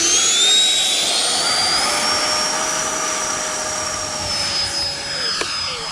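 An FMS Rafale RC model electric ducted-fan jet whines loudly and steadily at close range during takeoff, its high pitch rising and falling slightly as it accelerates, with a continuous rushing airflow beneath.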